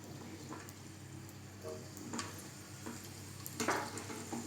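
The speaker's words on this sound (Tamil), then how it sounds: "ஃபஸ்ட்டு எண்ணெய் ஊற்றிக்கிறோம். இந்த புளியை போட்டுக்கிறணும்." Tamarind and chopped garlic sizzle softly in hot oil in a pan while a coriander chutney is made, with a faint continuous crackle and a few light scrapes and taps of stirring.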